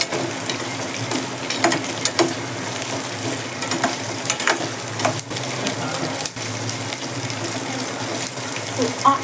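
Green chillies fry in a pan as spicy mint chutney is being prepared, giving a steady crackling sizzle with scattered sharper pops and clicks throughout, close and fairly loud.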